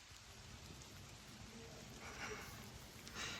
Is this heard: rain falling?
yes